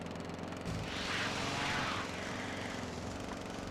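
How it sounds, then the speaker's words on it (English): Loud droning engine of a leaf blower cart running in Tony Hawk's Underground, a constant rough motor hum that swells in a hissing blast for about a second before settling back. "Damn, this thing is loud."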